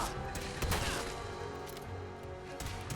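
Gunfire in Fallout 4 from a damaging gun, a dense run of loud shots and impacts layered over game sound with no breaks.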